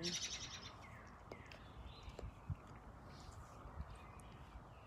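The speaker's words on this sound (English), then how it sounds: "These birds are getting crazy." Several birds call and chirp over a rustling, textured background, a brighter burst at the start and scattered calls after, moderately distant.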